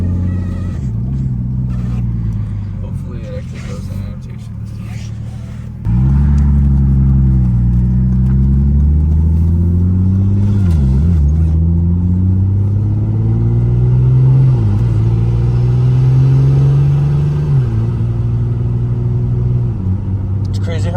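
A turbocharged BMW E36 with an 8HP70 automatic pulls hard on the Autobahn, its engine droning loud and close as the pitch climbs through long gear pulls, dipping briefly at each shift, with people talking over it.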